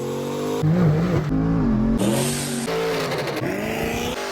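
A cammed 2014 Dodge Charger with a 5.7L Hemi V8 roars loudly up close, its engine note rising and falling through several revs and gear changes with a rough, lopey rumble.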